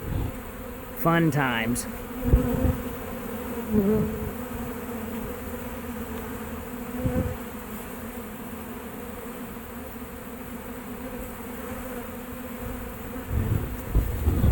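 Honeybees buzz around an old boat hull in Auburndale, Florida, a steady close hum with a few louder swells as bees pass near, and someone speaks briefly.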